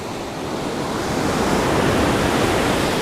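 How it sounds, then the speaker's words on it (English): Ocean surf at a Hawaiian shoreline near Pohoiki on the Kilauea coast, a dense, continuous roar of breaking waves that swells slightly louder, with some wind noise and no voices. "Surf, of course."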